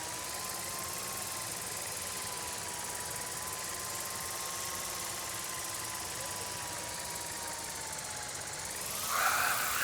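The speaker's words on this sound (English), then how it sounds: "give the drone a whirl around campus" A drone buzzes steadily around a school campus in Life is Strange, its high whining rotor drone holding an even pitch for several seconds, close and continuous, with a brief louder rush at the end.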